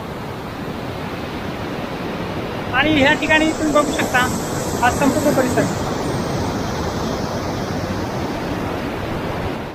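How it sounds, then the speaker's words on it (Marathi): Small Sidighat waterfall in a scenic river valley near Dhawda, Jalna, gives a steady, dense rush of falling water throughout, with someone talking over it for a few seconds in the middle. "तुम्ही माझ्या पाठीमागे बघू शकता या ठिकाणी हा धबधबा आहे"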